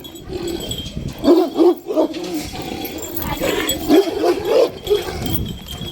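A four-year-old dog whimpers and grumbles in short bursts, fairly close, with a few yips and small clinks between the sounds.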